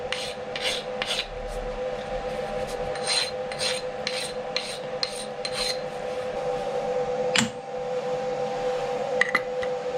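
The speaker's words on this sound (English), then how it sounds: "Quick deburr and then we'll get the holes in." Machined brass plates being deburred on a Bridgeport milling setup, a run of quick rhythmic rasping strokes up close over a steady machine hum, then a few scattered scrapes and clicks.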